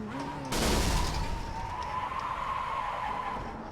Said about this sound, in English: that was me blowing my engine up